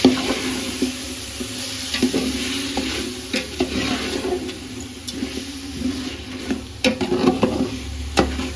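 Cooked mutton being stirred into biryani masala in a pot, a close, steady sizzle with wet scraping and clinking stirs repeating throughout, no talk.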